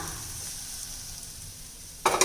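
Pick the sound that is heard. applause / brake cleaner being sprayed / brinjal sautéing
brinjal sautéing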